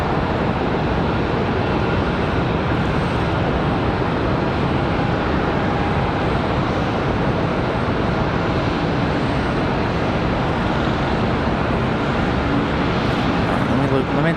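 A Boeing 777-200 airliner on final approach into Charlotte Douglas airport gives a steady, loud broadband roar that holds for the whole stretch, with a faint background murmur that could be voices.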